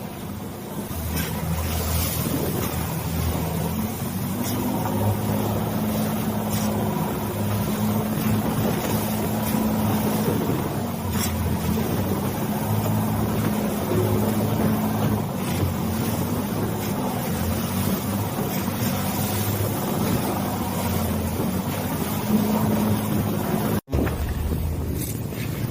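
A boat engine, smoking and short of cooling water, drones steadily for nearly half a minute with a low rumbling hum, heavy wind and water noise washing over the microphone throughout.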